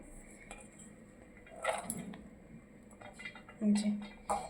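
Dishes and a bowl clink a few times while sweets are served at home in the evening, with scattered sharp knocks and a louder clatter near the end over a quiet room.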